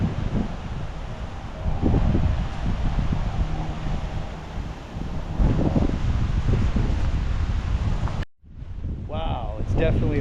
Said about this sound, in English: it's definitely a windy day today here on the beach side